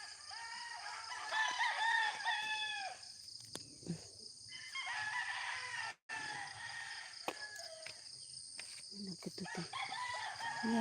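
Roosters crow outdoors, several drawn-out cock-a-doodle-doo calls in succession, one loud and near with others answering, over faint insect buzz and some clucking.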